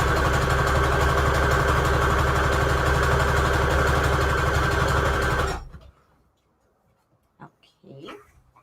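A sewing machine stitches fabric strips over lace trim in a steady, loud mechanical run for several seconds, then stops abruptly, leaving quiet handling noises.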